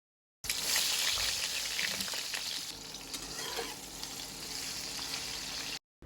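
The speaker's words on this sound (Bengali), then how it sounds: "এবার বেগুনগুলোকে হালকা ভেজে নেব।" Eggplant pieces with turmeric and salt fry in hot oil, making a loud, steady sizzle that starts abruptly. A few light stirring scrapes come through before the sizzle fades and cuts off.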